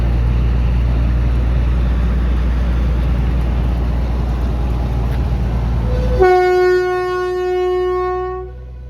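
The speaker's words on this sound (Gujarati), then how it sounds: "આવી હોય છે ટ્રેન." Loud, steady rumble of a train rolling past nearby, then a long blaring horn sounds near the end and fades out.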